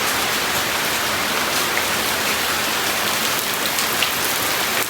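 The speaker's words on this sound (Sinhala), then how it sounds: "වහිනවා ටිකක් පායනවා ආය වහිනවා." Steady rain pours down in a dense, even hiss on the surfaces nearby, loud and unbroken, with no voices.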